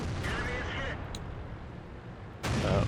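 Artillery shell fire in World of Tanks, heard as a short burst of gunfire-like blasts inside a noisy game mix, with one sharp crack near the end.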